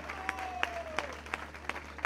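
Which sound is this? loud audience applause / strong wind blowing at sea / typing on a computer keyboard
loud audience applause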